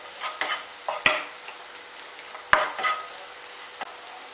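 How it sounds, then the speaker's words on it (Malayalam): Egg noodles fry in a pan under a soft sizzle while a spoon stirs them, with a few sharp scrapes and clinks against the pan. The sound is close and moderately quiet, with no talking. "നന്നായിട്ട് ഇളക്കി കൊടുക്കാൻ വേണ്ടി"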